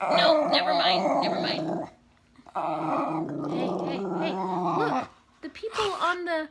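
A gray dog growls and groans in drawn-out, rumbling bursts close by, with a person talking over and between the sounds indoors.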